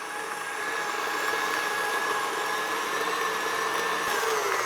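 A stand mixer fitted with a paddle beats buttercream as butter is added, giving a steady, loud motor whir and churning noise that continues unbroken with no talking.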